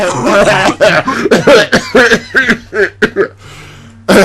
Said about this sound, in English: actually legitimately needed a cough